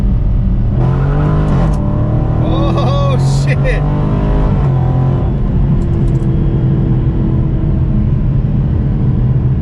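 Dodge Challenger Scat Pack, a lightweight build, accelerating hard with a loud, close engine roar that climbs in pitch through a gear shift while the driver exclaims over it.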